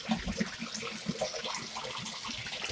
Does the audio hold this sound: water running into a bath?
yes